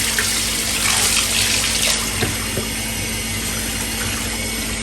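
Running water rinses a K&N reusable cabin air filter, a steady close gush like a tap pouring over the pleated element, with slight shifts as the filter is moved under the stream and no talk.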